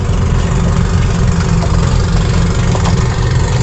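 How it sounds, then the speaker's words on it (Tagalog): A diesel engine idles close by, a steady low rumble with a constant mechanical hum holding even for the whole stretch, with no talk over it. "Ano makina? Parang diesel no?"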